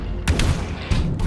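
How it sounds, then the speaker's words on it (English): Acid grenade explosions in the tactical RPG Deep Fringe, two dull booming bursts about half a second apart over a rumbling game soundscape, followed by a third blast. "Acid grenade again."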